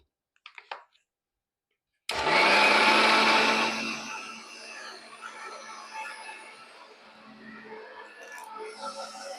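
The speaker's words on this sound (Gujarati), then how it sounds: "પાણી એડ કરી અને પાછું એકદમ સ્મૂથ પીસશું" A mixer grinder blends green chutney with added water into a smooth paste, starting abruptly with a loud, steady whirring roar that then settles into a lower, rougher grinding hum, preceded by a few brief clicks.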